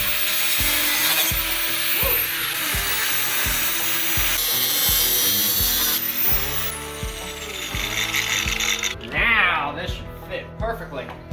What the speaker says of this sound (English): I need to cut this little brace out that I installed